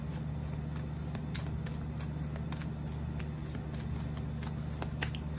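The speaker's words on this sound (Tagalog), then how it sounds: "Kumuha pa tayo ng isang baraha." Soft papery riffling and flicking of tarot cards being shuffled and drawn, repeated in quick bursts over a constant low hum, close up with no voices.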